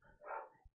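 A dog's single short bark, faint and somewhat distant, in a quiet indoor room.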